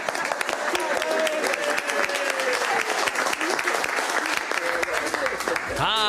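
Applause for a new agency director fills a council room, a dense, sustained patter of many hands clapping, with a voice briefly audible beneath it and a sharper sound cutting in at the very end.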